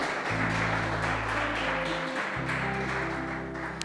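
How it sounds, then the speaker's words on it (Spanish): Church congregation applauding during a worship service, a quiet, continuous spread of hand claps from the room with sustained low organ- or keyboard-like tones humming beneath. "Denle un aplauso al Señor"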